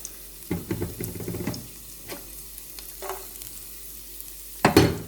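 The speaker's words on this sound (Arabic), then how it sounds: "راح اقلب التومة بشكل سريع" Minced garlic fries quietly in vegetable oil, with a soft background sizzle broken by a few short bursts of quick stirring and scraping.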